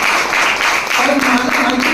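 Applause from participants at a training session, a continuous dense wash of many hands clapping together, fairly loud and close, with a voice briefly audible partway through.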